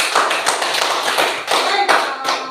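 A class of children claps together in a classroom, a few loud, uneven bursts of close handclaps with slight gaps between them.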